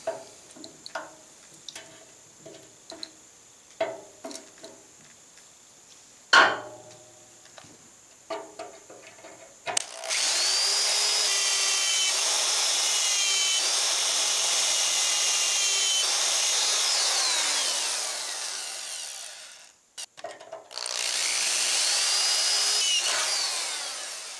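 Scattered taps and scrapes, then a power drill runs steadily and loudly through metal plate for about ten seconds, stops briefly, and starts up again.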